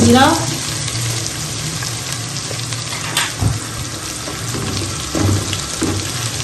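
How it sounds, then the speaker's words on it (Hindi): Ginger and garlic fry in a pan for a chana dal and bitter gourd dish, a loud, close, continuous sizzle broken by a few stirring scrapes and clinks. "यहाँ अदरक लहसुन ऐड किया है, इसको हम थोड़ा सा फ्राई कर लेते हैं।"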